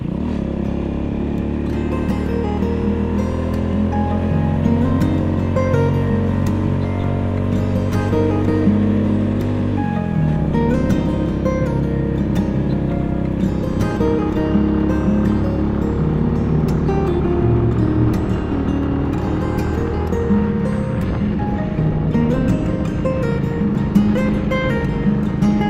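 A Honda Astrea motorcycle rides along with a loud, steady engine drone that shifts pitch partway through as it changes speed, the hum of wind and road constant beneath it.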